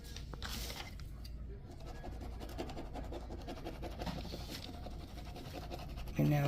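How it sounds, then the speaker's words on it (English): Paper being scratched and rubbed by hand to transfer wallpaper onto a craft piece, a soft continuous scraping texture, faint and close, with a brief louder knock near the end. "now I'm just scratching it on, pulling it up slowly"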